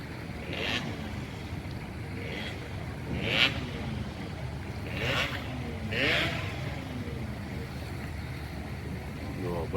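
A ferry leaving Merak port for Bakauheni, a steady low engine rumble with wind buffeting, and a few sharp higher bursts over the continuous drone while someone speaks.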